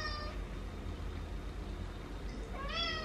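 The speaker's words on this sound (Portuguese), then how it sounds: "Tá miando aqui." A house cat meows twice, one short call at the start and a longer rising one near the end, fairly faint over a low background hum in an indoor room.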